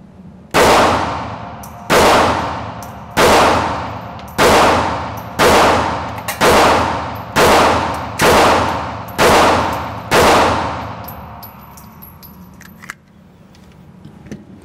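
Ten sharp gunshots from a Ruger LCP MAX pocket pistol ring out loud and close in a slow, evenly spaced string, each crack followed by a short metallic ringing decay, with no talking.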